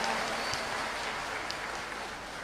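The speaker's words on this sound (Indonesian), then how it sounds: "kita beri tepuk" Students in a classroom give a short round of applause, a dense, even patter of clapping lasting a couple of seconds at moderate loudness.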